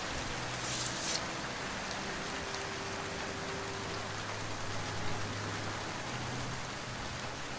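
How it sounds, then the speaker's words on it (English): Steady, dense rain in the video game Morroblivion hisses throughout, even and unbroken, with a faint low hum underneath and no voices. "Man, that rain is really loud."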